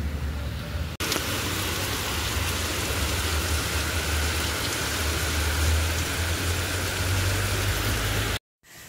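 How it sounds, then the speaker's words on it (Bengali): Heavy rain pours down steadily in a dense, loud roar, starting abruptly after a short pause and continuing unbroken until it cuts off near the end, with a low rumble underneath. "সকাল 10:30 এখানে শুরু হলো প্রচণ্ড জোরে বৃষ্টি।"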